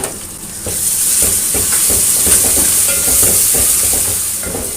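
Ginger garlic paste sizzles and spits in hot oil with golden-brown onions while a spoon stirs it around the pan, steady hiss with scraping bursts.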